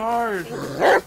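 A dog in the survival video game Rust gives a short growl that rises into a bark, brief and close, with a voice speaking right alongside it.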